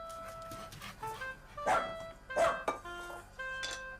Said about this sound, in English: He feeds Freddie, his dog.